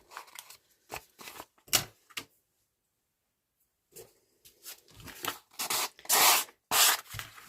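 A craft blade trims pieces off a sheet of card in short scraping strokes, a few quick cuts, a pause, then a denser burst of louder rasping slices close by.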